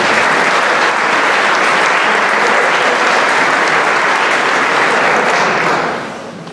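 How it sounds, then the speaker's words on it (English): An audience applauds steadily and loudly for several seconds, the clapping fading near the end. "So let's give them a round of applause."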